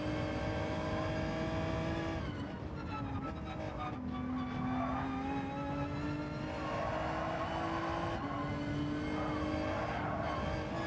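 A race car engine in the video game Gran Turismo 7 on the road course at Michelin Raceway Road Atlanta, droning steadily close up as it rises through gears with brief dips at shifts, loud and constant.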